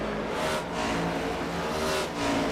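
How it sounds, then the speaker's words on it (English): A race car accelerates out of turn 4 at New Hampshire, its engine roaring loud and steady with a continuous buzzing drone that rises and swells in two surges and never drops away. "Back on the gas for turn 4."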